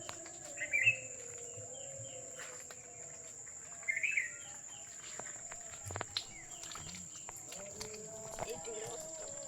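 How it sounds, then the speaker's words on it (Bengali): Birds of several species call in the Sundarbans mangrove forest in the morning, with a few short, bright chirps standing out over a faint steady insect drone and occasional low knocks. "বিভিন্ন প্রজাতির পাখির ডাক"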